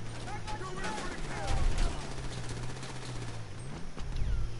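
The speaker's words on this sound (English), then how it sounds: "I hate this damn little machine gun" A small machine gun in GTA Online fires quick, rapid bursts of gunfire over a low engine hum, with a voice talking over part of it.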